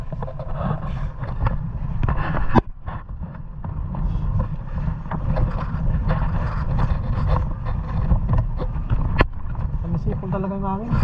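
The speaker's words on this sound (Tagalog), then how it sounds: "Sipol talaga yung hangin." Strong wind gusting and whistling past the microphone outdoors, with a steady roaring rumble throughout and a couple of sharp bumps, while a person talks underneath.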